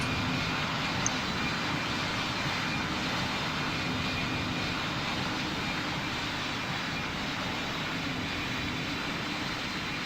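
An airliner spools up for takeoff from runway 16 in Roblox Pilot Training Flight Simulator, a steady, fairly loud engine roar with a constant hiss that carries on evenly without talk.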